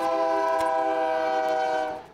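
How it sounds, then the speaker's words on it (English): Train horn blaring loud and sustained as a train passes through the town of Eureka, holding one steady chord before fading at the end. "When trains go through Eureka"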